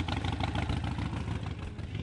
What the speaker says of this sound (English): Let's fire it up real quick.